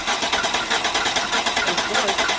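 An engine on a Honda Civic rally car cranks in a steady, rapid, even rhythm, loud and close throughout the whole stretch.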